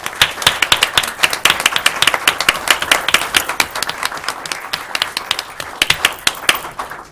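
A room full of people claps for a group of students being honored at a school board meeting, steady dense applause with sharp individual claps throughout, close and lively before tapering at the end.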